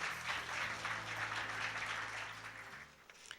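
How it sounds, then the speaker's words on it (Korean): An audience at a Korean open-source software day ceremony claps to welcome a speaker to the podium, a steady wash of applause that gradually fades out. "양환정 실장님을 큰 박수와 함께 단상으로 모시겠습니다."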